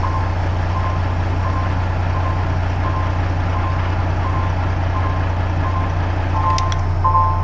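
A tractor-trailer truck rolls backward after its brakes are released, with a steady low engine rumble throughout and a regular reversing beep pulsing at an even pace, loud and close, with no talking.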